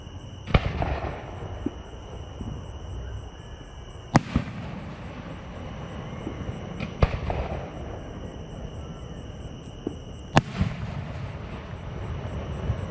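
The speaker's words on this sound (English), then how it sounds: "Just a little fireworks here in Spencer, Indiana, Owen County, setting in the pasture." Fireworks bursting over a pasture in Spencer, Owen County, Indiana, with four sharp, loud booms spaced several seconds apart over a steady low rumble and faint background hiss.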